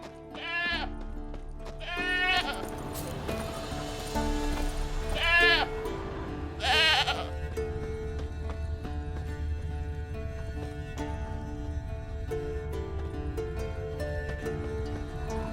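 Goat bleats from a Witcher 3 game scene, several wavering bleats in the first seven seconds over a steady ambient music and environment bed, fairly close and distinct.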